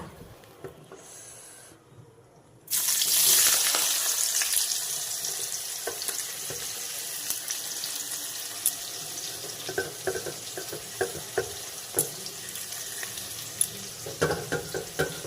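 Onions drop into hot oil already seasoned with cloves and bay leaves, setting off a sudden loud sizzle that continues as a steady, close frying hiss with occasional stirring clinks.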